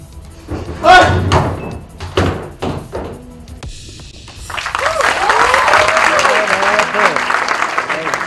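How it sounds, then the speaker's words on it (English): Audience applause at a college festival film-promotion event, starting after someone speaks and swelling into steady, dense clapping from a large crowd for several seconds, with a voice calling over it. "Please give him a huge round of applause for a fantastic performance."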